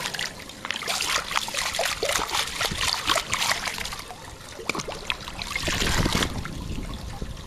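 Tap water runs and splashes while a pool chemical measuring container is rinsed out, an irregular trickling and spattering that swells and fades across the clip, fairly close and without talk.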